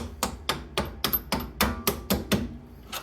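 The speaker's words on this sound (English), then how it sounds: "take my rubber mallet, pound that bolt in" A rubber mallet pounds a bolt into the front strut of a 2004 Honda Accord LX, about a dozen sharp, evenly spaced blows ringing close and clear, with no talk over them.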